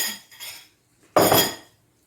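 A utensil stirs cornbread dressing in a bowl with two bursts of scraping and clinking, a soft one and then a louder, longer one.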